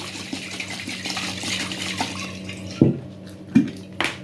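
Water trickles and drips into a glass jar packed with cucumbers for pickling, a steady soft pour at close range with a few sharper plops near the end.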